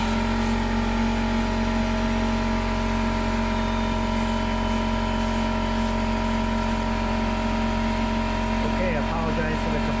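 An air compressor runs steadily nearby, a loud constant motor drone with a strong steady hum throughout, and a voice talks over it.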